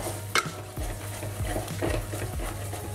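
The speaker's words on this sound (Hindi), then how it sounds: "हल्दी को ऐड करने के बाद इसको 1 to 2 मिनट्स ऐसे ही स्टेयर करेंगे" Turmeric powder being stirred into onion-ginger paste frying over medium heat for a mutton curry, with a steady sizzle and repeated scraping strokes of a spoon in the pan, close and moderately loud, no talk.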